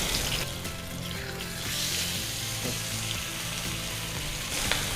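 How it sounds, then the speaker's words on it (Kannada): Fish sizzling and frying on a tawa for a Kerala style fish masala, a continuous close crackle of hot oil with faint stirring, no talking. "ಮೀನು ತವ ಫ್ರೈ ಆಗ್ತಂತಲ್ಲ ಈಗ?"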